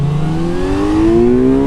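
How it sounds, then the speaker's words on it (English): A 2025 Kawasaki Z900 motorcycle engine gives a loud, close induction bark, its tone climbing steadily through a single throttle pull with no voices. "That sort of 5-6 grand induction bark where the engine catches up with your throttle input"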